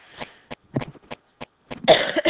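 A series of sharp coughs in irregular bursts, close and fairly loud, ending in a longer harsher coughing fit.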